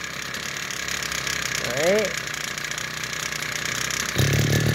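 Hitachi GC33 37mm machine running: a steady, faint mechanical idle hum with a brief chirping squeal midway, then a rougher, slightly louder stretch near the end. A short spoken word is heard.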